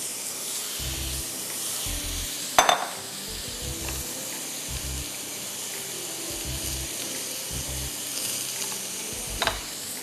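Chicken seasoned with salt and crushed black pepper sautéing in a pan, a soft steady sizzle with a few stirring scrapes and light clinks of the pan, no voices.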